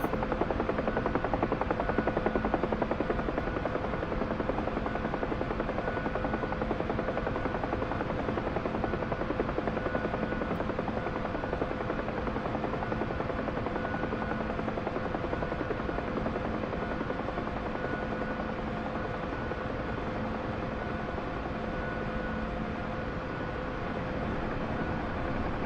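A helicopter in a search and rescue simulator game drones with a continuous rotor and engine hum, steady and loud for the whole stretch with no voices.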